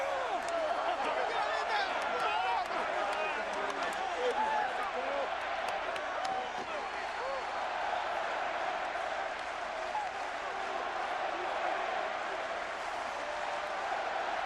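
Baseball fans applauding in the stands at Arlington during World Series Game 5 between the Giants and Rangers, a steady, broad wash of clapping and crowd noise that holds evenly throughout at a moderate distance.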